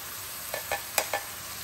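Two cans of Rotel being stirred into pasta in a pan for taco mac and cheese, heard as four soft, separate scraping strokes over a faint steady background hiss.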